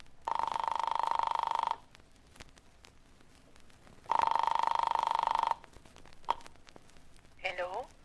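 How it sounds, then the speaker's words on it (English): Telephone ringing in a radio drama: two long electric bell rings separated by a pause, followed by a click as the handset is picked up and a voice answering. "I flicked the telephone dial to the number in her note."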